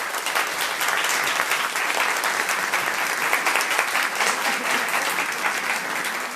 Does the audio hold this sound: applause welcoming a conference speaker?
yes